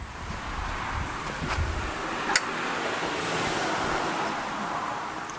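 Water sprays steadily from a cheap pressure washer gun wand through a hose, a continuous broad hiss outdoors with one brief sharp click partway through.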